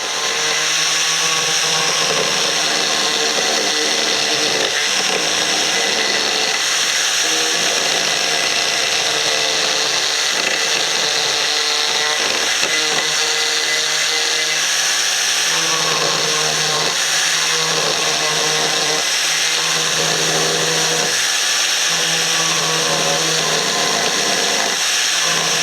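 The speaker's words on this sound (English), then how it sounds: "The ball gouge has a carbide ring around it that spins around and carves in a nice contoured shapes." An Arbortech ball gouge with a freshly rotated spinning carbide ring carves contoured shapes into wood, giving a steady, loud high-pitched whirring grind that holds continuously with small shifts in load as the cutter bites.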